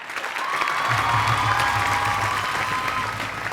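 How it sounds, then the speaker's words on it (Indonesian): Studio audience at an Indonesian television show breaks into sustained applause, dense and steady clapping with a little cheering mixed in, loud and continuous throughout, with a low hum beneath. "Mana tepuk tangannya?"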